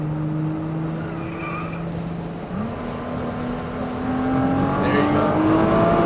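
A car brakes and accelerates through cones on a driving course, its engine drone holding steady, dipping, then climbing as throttle builds, with faint tire noise, while an instructor briefly speaks.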